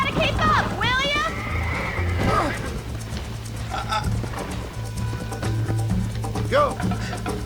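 A horse in the Western video game Red Dead Redemption whinnies loudly and shrilly near the start, then snorts and neighs again later, with clip-clop hooves, game music and a voice talking over it.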